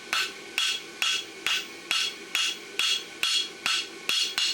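A farrier draws out a horseshoe on the anvil with the heel of a hammer. The blows ring out loud and close, about a dozen sharp metallic strikes in a steady, even rhythm.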